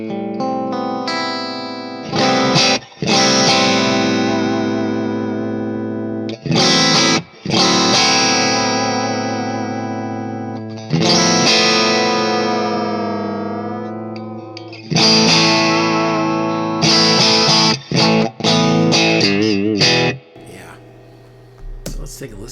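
Electric guitar through a low-gain amp: sustained, lightly driven chords ringing with chorus-like shimmer and reverb, loud and close, separated by brief pauses and muted strums.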